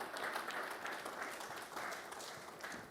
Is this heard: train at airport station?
no